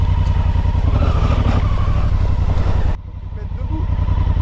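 A Honda Africa Twin motorcycle rides along forest trails, its engine a steady, loud close-up drone that drops in level partway through and then builds again, with talk mixed in.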